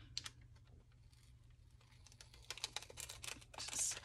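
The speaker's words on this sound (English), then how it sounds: "Get the scissors here." Scissors snip through paper while an envelope belly band is being made, a run of quick, crisp cuts and rustles that grows louder toward the end over a low steady hum.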